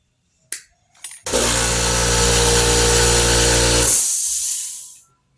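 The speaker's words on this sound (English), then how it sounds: "the compressor kicked on" An air compressor starts up with a couple of brief clicks, then roars into a loud, steady motor drone with hissing air for several seconds before winding down, close by in a crafting workspace.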